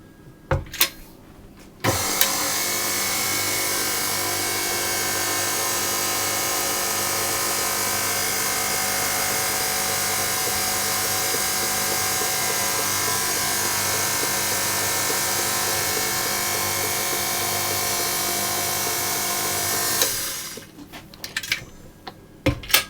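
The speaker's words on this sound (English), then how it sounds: "I'm going to mix it on a low speed until it's all combined" An electric stand mixer with a paddle running steadily on low speed through lemon poppy seed cake batter, a loud continuous motor whir lasting about eighteen seconds before it switches off, leaving a few faint clatters.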